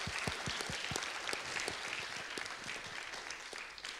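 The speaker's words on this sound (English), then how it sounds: "let's just give a round of applause for the panel once again." Audience applause for a panel at a livestreamed event, dense clapping with sharp individual claps standing out, steady and sustained throughout.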